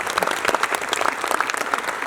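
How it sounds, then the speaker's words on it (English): Applause from a keynote audience welcoming international guests at an asset management event, a dense, steady roar of many hands clapping close and full for two seconds with no talking over it. "a round of applause as well?"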